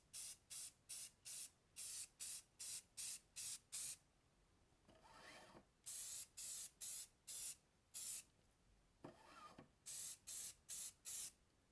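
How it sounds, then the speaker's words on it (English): Gray filler primer sprayed from an aerosol can onto a 3D printed part in a series of short, evenly timed bursts, about a dozen hissing blasts in quick rhythm with brief pauses between, close and fairly loud, with no voices. "I gave the part a coat of gray filler primer."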